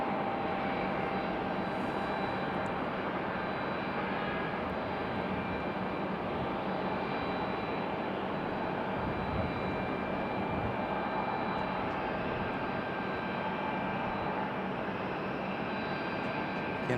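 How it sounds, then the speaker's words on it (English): An arriving airliner approaches RDU Raleigh-Durham International Airport, a steady broad engine roar that holds fairly constant and distant for the whole span, with no talk over it. "our next arrival is from LAX. That one getting ever closer."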